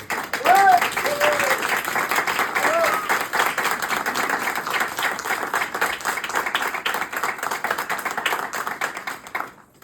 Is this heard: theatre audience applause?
yes